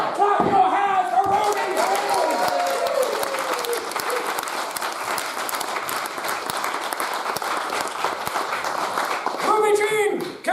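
An audience at a live comedy game show, The Dark Room at Portmeirion, claps loudly and continuously with cheering voices mixed in. A host shouts over the crowd at the start and again near the end.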